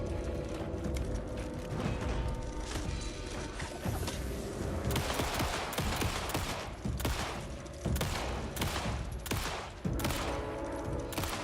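Gunfire during play of Alan Wake 2: shots fire repeatedly in irregular bursts over roughly eleven seconds, mixed with clanks, crashes and dense game noise, fairly quiet overall.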